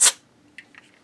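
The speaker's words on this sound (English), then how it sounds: "blast some of the dust out of that socket" A short sharp blast of compressed air clears dust from a Seeburg HFMA1 jukebox socket, one loud hiss at the start that cuts off quickly, followed by a few faint small clicks.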